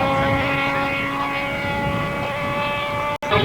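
Aerobatic airplane at an airshow roaring past on a high-speed pass, a loud steady propeller and engine drone with a sustained hum, while an announcer speaks faintly underneath.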